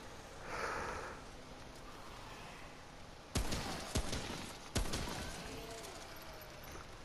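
Hunting rifle shots in the video game Remnant: From the Ashes, three sharp loud reports spaced about a second apart over a quiet ambient background, each with a short ringing tail.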